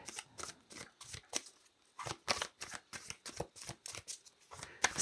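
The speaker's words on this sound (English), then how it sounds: "I'm going to keep shuffling." Tarot cards being shuffled by hand in a steady run of crisp riffling bursts, close and fairly quiet, with no talking over them.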